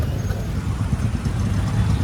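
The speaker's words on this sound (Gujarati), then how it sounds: "એટલું બધું ભયાનક ટ્રાફિક છે" Heavy city road traffic in Vadodara, a dense low rumble of engines and passing vehicles that stays steady throughout, close by.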